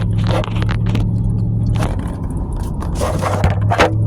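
A car is driving, with a steady low road and engine rumble heard from inside the cabin throughout, plus occasional louder bursts of rattling and scraping.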